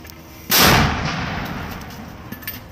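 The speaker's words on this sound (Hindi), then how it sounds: "कासिम का लड़ाका कुछ फायर करता है" A single sharp gunshot or blast from combat footage cracks loudly, then rolls into a long fading echo across open ground, with a few faint pops trailing behind.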